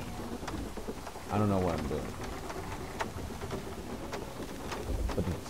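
Steady rain with rumbling thunder in the video game God of War, a constant wash of downpour under a voice talking throughout, with a brief louder burst partway through.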